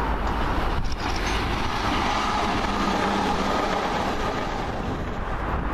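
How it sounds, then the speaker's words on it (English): A fast train passes through Cardonald station on a route from Ardrossan Harbour to Glasgow, a loud, steady rushing roar of wheels on rail that holds near and even for several seconds, with no voices. "Got a fast train from Drossen Harbour to Glasgow."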